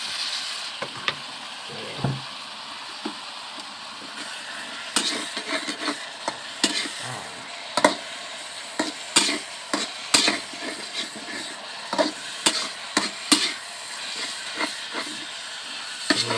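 Noodles for lamb pad thai stir-fried in oil in a pan, a steady sizzle and hiss broken by frequent sharp clatters and scrapes of the spatula against the pan, close and without talk.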